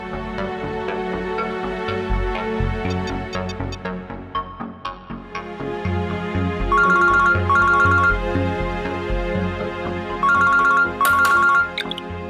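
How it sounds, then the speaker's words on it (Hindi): An outgoing phone call in a Hindi horror drama, where a melodic ringtone-style ringback plays in repeated bursts over dramatic background music, loud and steady, with no speech. "आप प्लीज उनको अभी फोन कीजिए"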